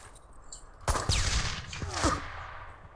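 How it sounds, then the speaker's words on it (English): A claymore mine explodes in an online first-person shooter game: one sudden loud blast followed by a second crack and a fading rumble over faint background game noise. "That was the laggiest explosion ever"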